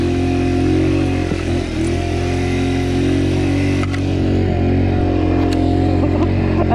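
A tuned 80 cc scooter engine drones steadily while climbing an off-road enduro trail, with a continuous mid-pitched hum and faint rattles and clatter on top, close and fairly loud.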